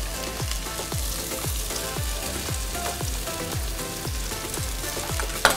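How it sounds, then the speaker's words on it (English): Sliced onions sautéing to caramelize in a frying pan, with a loud continuous sizzle and regular, evenly spaced stirring scrapes repeating under it. "in the first pan just onions that are going to be sauteed and caramelized"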